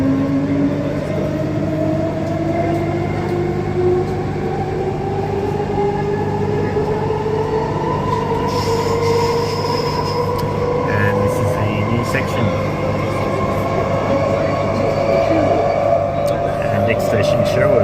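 An Armadale Line train pulls away from Armadale station, its rising motor whine climbing steadily over a continuous rumble of wheels on track, loud and close from inside the carriage, with faint talk in the background.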